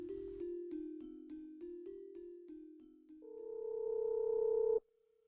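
A mobile phone sounds a quick run of keypad beeps, then a single steady dialing tone that holds for about two seconds and cuts off abruptly.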